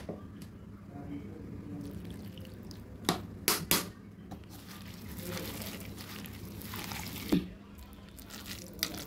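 Moringa leaves being kneaded by hand into a pakora batter, with wet squishing and soft sticky squelches and a few sharper clicks scattered through, close and fairly quiet.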